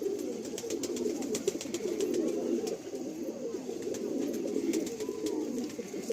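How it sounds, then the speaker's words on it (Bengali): Pigeons coo steadily in a loft housing high-quality Andhra Kalanka birds, a dense, continuous low murmur of overlapping calls with faint ticking and fluttering above it. "এত সুন্দর সুন্দর পায়রা রয়েছে এই লফটে"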